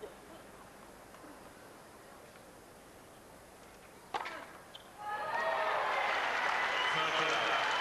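A tennis crowd applauding and cheering on Ivanisevic during a match: low murmur, a sharp thud, then a sudden burst of loud clapping and shouts that holds steady to the end.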